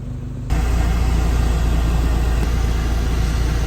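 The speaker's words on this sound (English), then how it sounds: "Oh, and you hear that? The fans have kicked in." Radiator cooling fans in the engine bay of a Mk2 Jetta with a 1.8T swap switch on abruptly, then hold a loud, steady broadband whoosh under a low engine hum with no talking.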